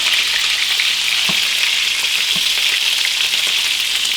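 Italian meatballs sear in a hot pan with a steady, loud sizzle throughout, broken only by a couple of faint knocks; no one speaks.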